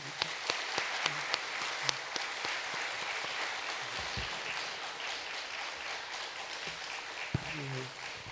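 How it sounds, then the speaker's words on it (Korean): A church congregation applauds the pastor, a dense, steady patter of many hands clapping at moderate distance, with a few sharper claps and faint voices scattered through. "감사의 뜻으로 박수를 좀 드리겠습니다."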